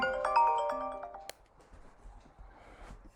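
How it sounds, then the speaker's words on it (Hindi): A mobile phone rings with a short bright electronic melody of repeated tones, nearby and fairly loud, then cuts off abruptly, leaving faint room noise. "फ़ोन में कर दिया साइलेंट, बिना मतलब के बज रहे हैं।"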